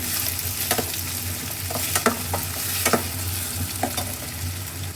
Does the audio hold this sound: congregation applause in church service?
no